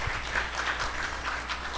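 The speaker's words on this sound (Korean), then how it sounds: "다시 한번 박수 한번 부탁드리겠습니다." Steady applause from an audience at a panel forum on energy storage and renewable energy, a dense, even patter of many hands lasting the whole short stretch without voices.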